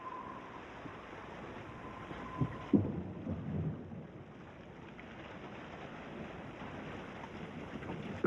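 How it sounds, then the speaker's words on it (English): Rain falling on a Himalayan lake in Ladakh during a summer storm, steady hiss of drops with a brief thunder-like rumble partway through, fairly faint and distant. "Gale-force winds and torrential rains threaten the grebe's floating nest."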